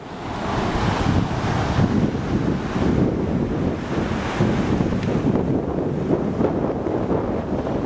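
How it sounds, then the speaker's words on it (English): Ocean surf with waves about one to three feet high breaks continuously under steady wind buffeting the microphone, a loud, dense roar that never lets up and has no talking over it. "We got some waves about 1 to 3 feet."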